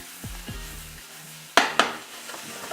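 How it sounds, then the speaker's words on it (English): Mushrooms, onions and garlic frying in a pan for an egg frittata, a soft sizzle under a few low knocks, then two sharp clanks of the pan being tossed. "keep an eye on your mushrooms, onions and garlic, keep tossing them"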